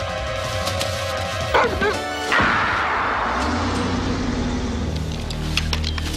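A dog barks several times in short, sharp bursts during a tense poaching confrontation outdoors, heard over a background rumble and other noise; a voice can be heard briefly.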